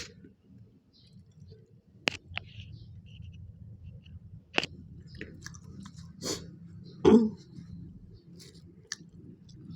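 Someone chews a mouthful of rice close to the microphone, with soft wet mastication and a few sharp crunchy bites and clicks spread irregularly through a quiet background.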